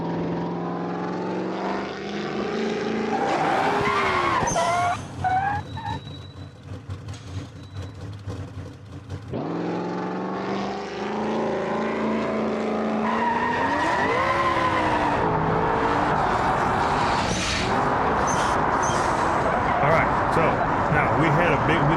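Race car launching hard with heavy wheelspin in the BeamNG.drive driving game, a loud high engine wail rising and dipping through gear changes with tyre screech, with someone talking throughout.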